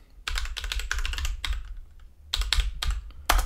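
Quick bursts of keystrokes clatter on a computer keyboard as a password is typed at a desktop terminal, in short irregular clusters with brief pauses. The sound is close and clear, with no voices.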